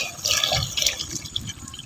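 Hot water poured into a cooking curry, a soft splashing and bubbling trickle with small drips, close and fairly quiet, alone without talk.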